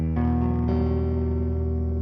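An electric guitar played through an EHX Percolator harmonic distortion pedal gives a thick, buzzy fuzz tone, with sustained chords holding steadily and loudly on their own for about two seconds.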